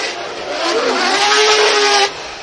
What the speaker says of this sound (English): Oi, the young driver here. 3-rotor RX-7.